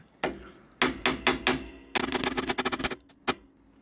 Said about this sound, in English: I don't like hammering late.